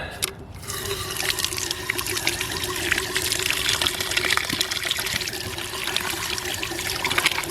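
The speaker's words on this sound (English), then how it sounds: "I'll use some rainwater to wash them in my sieve." Rainwater trickles and splashes steadily as potatoes are rinsed in a sieve outdoors, a continuous close wash of running water with no talk.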